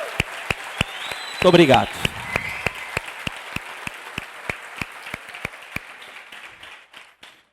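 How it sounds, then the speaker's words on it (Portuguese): Church congregation applauding as a salute, with a steady rhythmic clapping pulse through the whole stretch; someone speaks briefly over it near the start, then the clapping carries on alone before fading out. "nós queremos saudar vocês com uma salva de palmas para Jesus"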